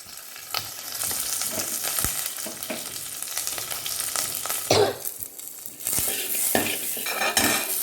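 Spices for tempering crackle and spatter in hot oil for coconut milk rasam, with sharp irregular pops over a steady sizzle and occasional clinks of a utensil against the pan.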